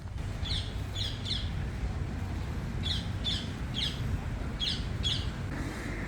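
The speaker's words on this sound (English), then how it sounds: "And listen to the birds in Mauritius." Birds call from the trees in Mauritius, repeated short chirps in small groups over a steady low background rumble, faint and at some distance.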